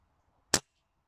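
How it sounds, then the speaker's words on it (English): A single short, sharp metallic snap as a Kral Puncher Breaker bullpup air rifle with side-lever cocking is dry fired, alone against near silence. "I'm just going to dry fire it now"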